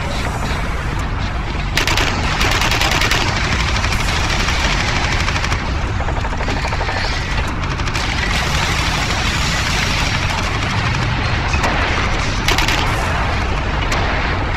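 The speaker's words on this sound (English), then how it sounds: "Oops, my weapon went off there" Continuous automatic weapon fire in the Warhammer 40K Eternal Crusade video game, a dense steady rattle of shots running throughout with engine-like rumble beneath, loud and close.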